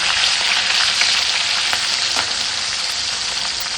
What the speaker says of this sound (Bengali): এগুলো ওই মাছটা ভাজা হতে না একটু সময় লাগবে